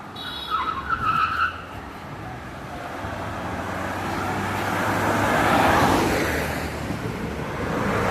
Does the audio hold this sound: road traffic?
yes